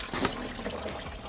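Engine coolant gushes from a car's cooling system during a thermostat replacement and coolant flush on an Acura TSX CL9, a steady liquid pour with a brief louder splash at the start.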